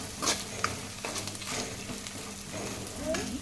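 Carrots frying in oil in a home kitchen pan, giving a steady low sizzle with a few stirring scrapes and clinks throughout, fairly close and with no talking.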